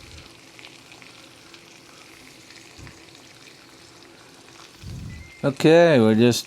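Butter melts and sizzles with garlic in a pan for a steak, a faint, steady crackling fry close by, before a voice briefly speaks over it at the end.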